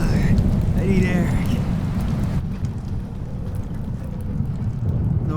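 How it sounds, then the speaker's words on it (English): Thunderstorm in the video game Life is Strange, a dense loud wash of heavy rain pouring continuously, with deep rumbling underneath and faint voice-like sounds in the first half. "No more storms."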